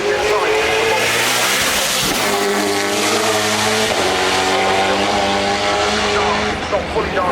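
At the Goodwood Festival of Speed hillclimb, a race car engine roars loudly and continuously with shifting revs and some tire squeal, while a commentator talks over it.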